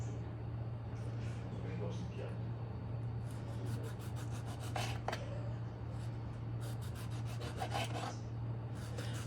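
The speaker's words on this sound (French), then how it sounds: "Je vais couper toutes mes tomates anciennes comme ceci." A serrated knife saws through heirloom tomatoes in short rasping strokes, close and fairly quiet over a steady background hum, with brief speech mixed in.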